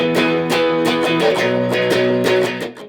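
Electric guitar strumming chords of a song, with steady rhythmic downstrokes at a lively tempo, loud and close, no voices.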